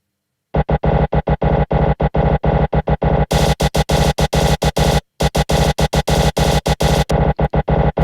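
A cymbal sample, heavily pitched down and looped in industrial style, comes through as a loud, harsh, noisy burst rapidly retriggered in a steady stutter. It stops briefly, then carries on with a brighter, hissier edge.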